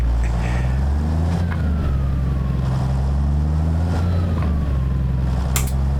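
Cummins N14 diesel engine in a Peterbilt 379 truck in American Truck Simulator, a steady low drone with a slight rise and fall in pitch, running alone throughout.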